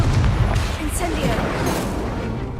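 An Incendio fire spell cast in the Hogwarts Legacy video game bursts as a dense, loud, continuous fiery roar with booming low rumble, a voice shouting over it amid chaotic combat.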